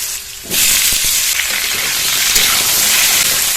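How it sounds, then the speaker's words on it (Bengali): Potatoes tipped into hot oil left from frying fish, in a rustic village kitchen, set off a sudden loud, steady hiss of sizzling that starts after a brief quiet moment and keeps going without a break. "এই মাছ ভাজা তেলের মধ্যে আলু দিয়ে দেবো"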